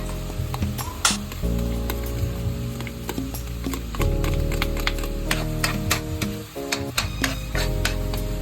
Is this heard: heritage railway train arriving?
no